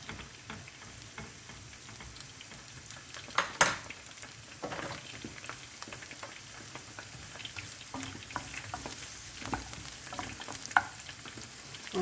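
Chicken fritters frying in oil that is not yet fully hot, giving a steady soft sizzle and crackle with occasional utensil clinks and taps, close and fairly quiet, no voices.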